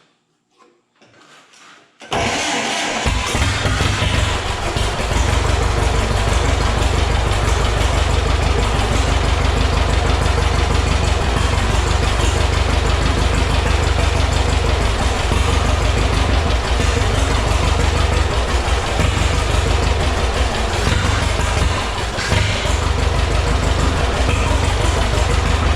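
John Deere WA tractor engine cranking, catching with a little throttle and settling into a loud, steady, rumbling run that holds for over twenty seconds, close by.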